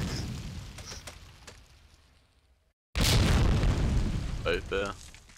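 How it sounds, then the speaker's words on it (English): A bomb explodes in the Medal of Honor: Allied Assault video game during a competitive realism match, a sudden loud boom breaking a near silence and rumbling on, with brief game sounds after it. "Achilles throws a nuclear bomb into the town and kills two of them."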